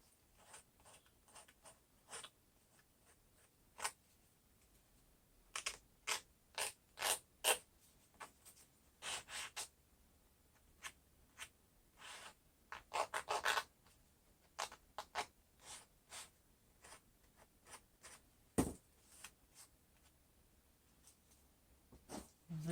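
A sanding block scratches across a paper birthday tag in short, quiet rasping bursts, irregular and close, separated by brief silences, with no voices.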